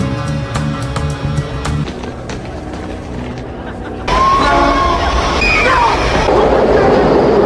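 A train in the film The Jackal (1997) rumbles past, with tonal hums and clanks first, then a louder rushing roar with metallic squeals and noise from the wheels.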